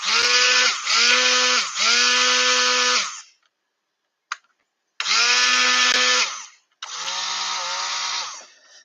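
An electric mixer whirs as it blends vegan soap batter, with a loud, steady motor whine in close bursts: one long run with brief dips, a pause with a faint click, then two more runs.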